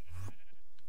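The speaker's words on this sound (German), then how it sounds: "hier hat es ganz viele Schafe" A single short sheep bleat in Minecraft with the Pixelmon modpack, a brief nasal cry lasting about a quarter second, followed by quiet with a couple of faint soft game sounds.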